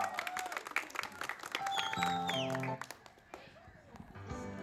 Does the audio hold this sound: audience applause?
yes